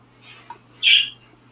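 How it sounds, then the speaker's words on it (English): A Silkie hen lets out a short, loud squawk of an egg song after laying, near the microphone, preceded by a fainter call, against a low steady hum. "one or two hens laid some eggs, and they're doing their egg songs"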